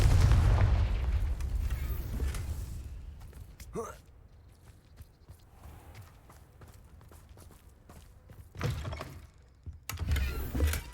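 A Confringo fire spell cast in the Hogwarts Legacy video game produces a loud fiery blast with a rumbling low burst. Quieter game ambience follows, then two more heavy bursts near the end.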